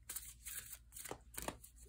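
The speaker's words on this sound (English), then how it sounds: "So make sure that it's well shuffled." A deck of tarot cards shuffled in quick bursts, several soft riffling flutters close by, faint and separated by short pauses, with no talking.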